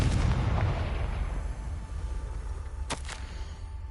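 A Confringo blasting spell explodes in Hogwarts Legacy, a loud, broad booming burst that dies away into a rumbling tail, followed near the end by a pair of sharp, crackling bangs.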